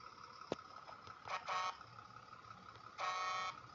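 A truck horn in World Truck Driving Simulator gives two faint blasts, one short and one longer about a second and a half apart, over a quiet engine hum with a brief click earlier.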